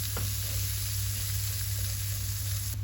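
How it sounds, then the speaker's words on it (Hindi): Flour frying in about 80 grams of butter in a pan, giving a dense, even sizzle over a constant low hum, close and unbroken, with no voices. "यहाँ पर तकरीबन मैंने 80 ग्राम मक्खन ले लिया है और इसके अंदर ये मैं मैदा डाल रही हूँ।"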